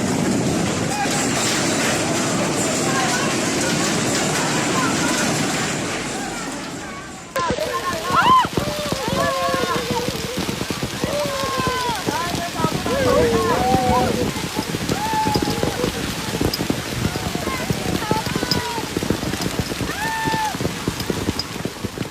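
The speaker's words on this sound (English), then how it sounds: "Residents quickly move indoors as hail intensifies, leaving the outside filled with the constant impact of nature." Hail pelts the ground outside in a dense, steady patter of small impacts, continuing after a brief break, while a voice narrates over it.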